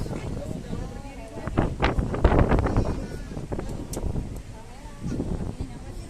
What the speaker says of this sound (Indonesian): Jadi sini kena angin teman-teman, anginnya sangat bagus.